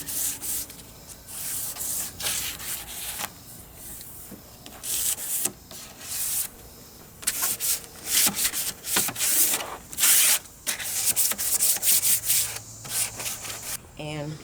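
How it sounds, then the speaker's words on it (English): Someone scuff-sands the slick, shiny top of a wooden nightstand by hand with a used piece of 220-grit sandpaper, making bursts of close, scratchy rubbing strokes that stop and start in irregular rhythm, with short pauses between them. "Now I'm going to scuff sand the top with some of this, just a used piece of sandpaper. It's 220 grit."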